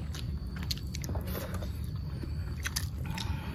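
Close, wet chewing and crunching while someone eats snakehead fish, with small bites and mouth sounds over a low background rumble, no talk.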